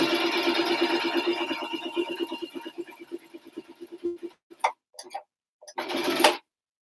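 Sewing machine back stitching fabric scraps into a holiday gift bag, a steady rapid motor rattle for about four seconds, then short stop-start bursts of stitching, fairly close with no talk.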